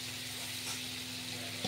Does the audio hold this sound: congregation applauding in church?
no